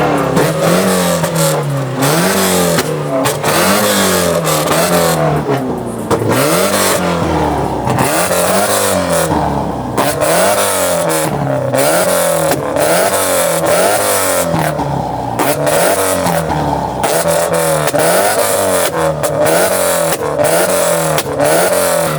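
A car at a busy local meet revs hard and repeatedly, with rhythmic rising and falling engine tones and sharp exhaust pops over a loud, continuous crowd-and-traffic background.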